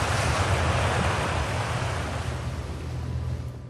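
A continuous, loud roar of rushing water from a waterfall in the video game Outer Wilds, a dense broadband wash that steadies and fades slightly, with no voices over it.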